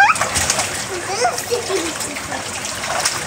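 Water splashes and sloshes continuously as a small child moves about in a small home swimming pool, with voices talking nearby over the splashing.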